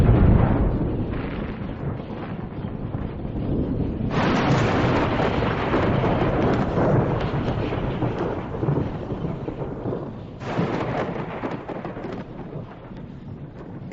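Deep rolling thunder from a lightning storm rumbles continuously, with swelling louder peaks and a steady wash of rain-like noise underneath and no speech.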